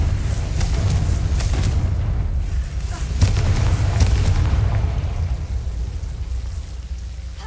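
A Confringo spell bursts in Hogwarts Legacy with a loud booming blast that rumbles and crackles for several seconds, then slowly fades.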